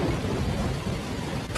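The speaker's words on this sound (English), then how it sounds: "I've never seen such heavy rain before." Heavy rain pours down as a dense, steady roar, with a low thunder rumble running underneath throughout.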